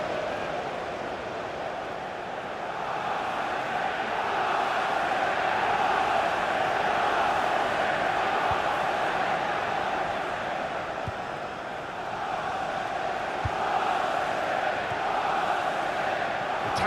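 Stadium crowd noise in the football video game FIFA 17 during a Manchester City vs Spurs match: a steady, dense roar of thousands of fans that swells and dips slightly, continuous and fairly loud with no foreground voices.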